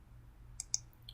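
Two faint, quick computer mouse clicks during PLC programming software work, closely spaced over a low steady hum, with a softer third click just after.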